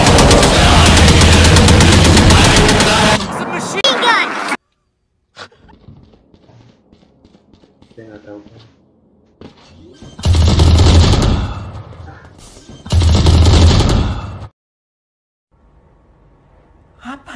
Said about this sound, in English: It's a machine gun.